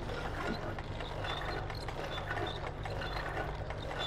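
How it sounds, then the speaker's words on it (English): A meat grinder sausage maker in the game Little Nightmares, cranking with a continuous mechanical ratcheting clatter and low rumble, steady and close throughout with no talking. "let's grind that meat."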